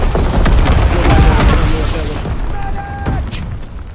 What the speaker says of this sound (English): Enemy bomber approaching. Taking incendiary it. Bombs incoming.